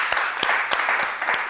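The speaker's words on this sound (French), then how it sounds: "Et on applaudit pour ça." Audience clapping at a music broadcast show with artists in Agboville, a brief burst of applause with a few sharp rhythmic beats cutting through.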